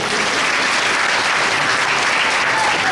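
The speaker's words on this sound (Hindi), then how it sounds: "ताली नहीं बजाओगे" Audience at a religious gathering in a Durga temple in Haridwar claps in dense, even applause, loud and unbroken for about three seconds.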